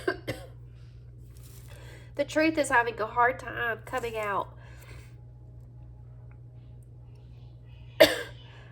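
Coughing from a person doing a pick-a-card tarot reading: a short cough near the start and another sharp one near the end, with a stretch of talking in between.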